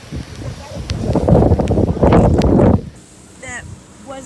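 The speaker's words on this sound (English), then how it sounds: "So windy out." Strong outdoor wind buffets the microphone in a loud, roaring rush during a storm with high winds, then drops away abruptly, leaving quieter air and a voice speaking near the end.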